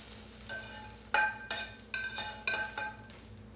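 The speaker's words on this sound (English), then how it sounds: "I'm going to spoon these out into my bowl" A spoon scoops fried gnocchi, mushrooms and peas from a pan into a bowl: four or five distinct metallic scrapes and clinks over a low, steady sizzle.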